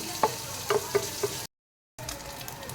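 Bacon sizzles in a pan as it fries to golden brown and crispy, a steady hiss with a few sharp pops and stirring clicks, briefly cut to silence before the frying resumes.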